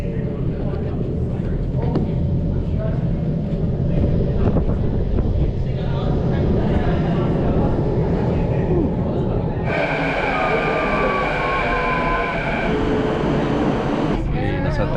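A train rolls through downtown Vancouver with a steady low rumble and rattling rail noise. Wind buffets the microphone, and a brighter whine of motors and braking rises partway through.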